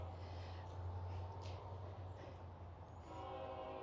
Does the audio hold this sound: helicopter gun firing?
no